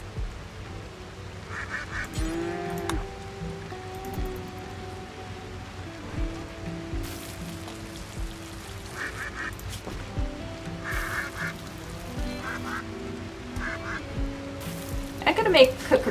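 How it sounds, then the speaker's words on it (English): Ducks honk in the Rimworld video game, a series of nasal honking calls repeated at intervals over a low ambient background, with occasional brighter squawks near the end. "Look at those ducks are honking angrily."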